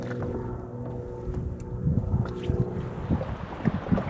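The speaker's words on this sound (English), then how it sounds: "So the wind just picked up," Wind picking up on a lake as heard from a fishing boat, a steady rumbling buffet against the microphone with low hull and water knocks, loud and continuous, no talk.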